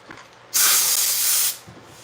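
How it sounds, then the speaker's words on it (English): A can of spray paint lets out one loud, continuous hiss lasting about a second, close to the microphone, with quiet room sound before and after. "as you're spraying paint, so I wanted to like remove that"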